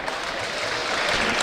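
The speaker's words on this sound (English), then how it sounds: "Applause, I think, is for one of the York substitutes warming up" A crowd applauds at a York City versus Aldershot Town football match, a sustained wash of clapping from the stands that swells slightly over a brief moment.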